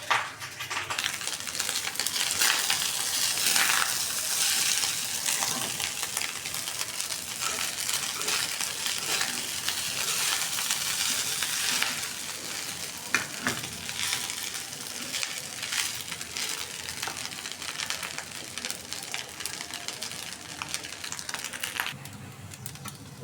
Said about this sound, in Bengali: যেহেতু ভাত ভাজতেছি ওদের জন্য